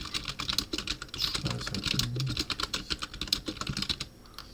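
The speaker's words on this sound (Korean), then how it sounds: "이거 좀 타이핑을 하면서 말씀을 드리겠습니다" Steady, rapid typing on a computer keyboard, close and clear, with irregular bursts of keystrokes running throughout and no talk over it.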